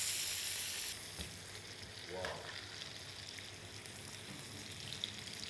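Pork tenderloin sears in a pan on the stove, a steady close sizzle that drops in level after the first second and then continues evenly with faint scrapes, no talk.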